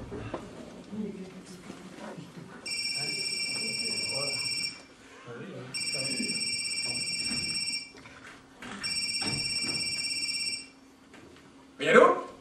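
Landline telephone rings in three long electronic bursts indoors, heard over a television or radio playing in the background, with a brief clatter at the end as the handset is picked up.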